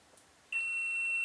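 A multimeter's continuity beep sounds while a POCO X3 phone board is being probed: one steady, sustained electronic tone that starts abruptly partway through and holds clear and alone to the end.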